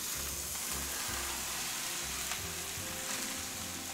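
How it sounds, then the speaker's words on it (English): Two bags of cauliflower rice cook in a pan, making a faint, steady frying hiss with soft low bumps of stirring beneath it; no one talks. "Now in goes the cauliflower."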